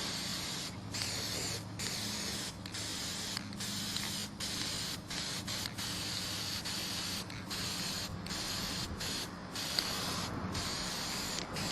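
Aerosol spray can laying black paint over a graffiti stencil, heard close up as a steady hiss broken into many short and long bursts with brief pauses between them, no voices.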